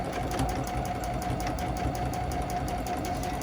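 A sewing machine runs steadily throughout while free motion quilting the Mini Stacks quilt, a continuous, close, even machine hum with a fast stitching patter and no pauses.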